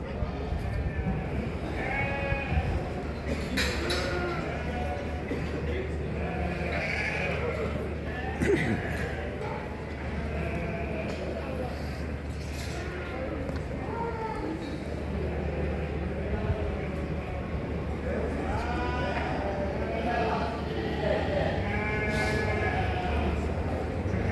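Male lambs of about 40 kg bleat repeatedly among a crowd of sheep and goats at a livestock market, with people talking nearby throughout.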